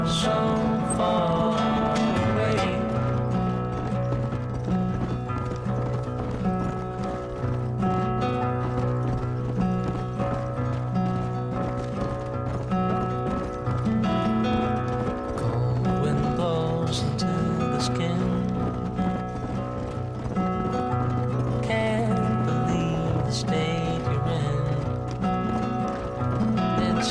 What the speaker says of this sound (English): Malnourished horse? Like, what is that? It's like a zombie horse.